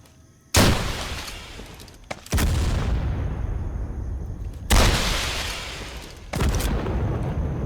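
Repeated RPG rocket launches in Total Conflict: Resistance, four loud, booming blasts spaced a second or two apart, each with a long rumbling tail and no speech.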